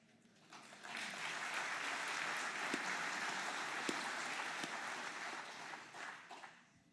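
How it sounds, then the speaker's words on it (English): An audience at a talk by Bishop Michael Nazir-Ali in Torquay breaks into applause that swells to a sustained, fairly distant roar of clapping before fading gradually toward silence. "It's very good, this applause"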